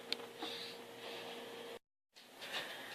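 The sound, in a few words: sewing machine stitching a bra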